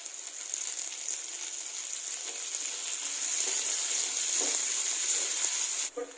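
Hot oil crackles and sizzles as a tempering of onions and curry leaves is added for a Telugu amaranth and sorrel leaf chutney, a close, steady frying hiss that grows slightly louder before a brief clatter at the end.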